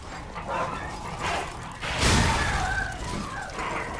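Dogs in the Lies of P video game give a few sharp barks and yips over a dim, rumbling game ambience, with one louder snarling burst midway, moderately loud and without speech.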